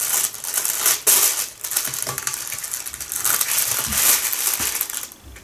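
Crinkly, crunching plastic rustles as pork is cut repeatedly inside a baking bag, a busy scraping and crackling texture with sharp clicks throughout.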